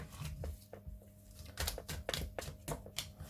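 Tarot cards shuffled by hand, a series of crisp riffling snaps and soft flutters in quick irregular bursts, close and fairly quiet, with no speech.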